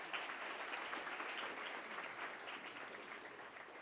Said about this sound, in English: We could clap for her and welcome her to